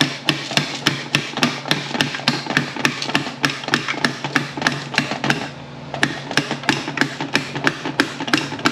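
A slide hammer pulls a pilot bearing from a Ford 4R70W transmission, striking in sharp metallic knocks at a rapid, steady rhythm. There is a brief pause midway, then the knocks resume, loud and close with no talking.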